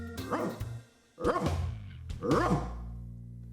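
A man imitates a dog with his voice, giving three loud, close barking yelps in quick succession, each with a growly rising and falling tone.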